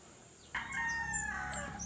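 A Rhode Island Red rooster crows once, close and clear, a drawn-out call with a rising start and a long wavering tail, breaking in after a brief quiet moment.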